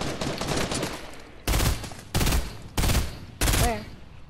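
Fortnite gunfire erupts in several loud, separate bursts, each a sharp volley of shots, spaced roughly evenly after a noisy opening stretch.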